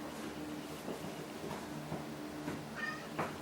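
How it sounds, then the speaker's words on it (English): A cat meows indoors, a soft, short, faint call near the end, heard over low background hum with soft scuffing. "Cat."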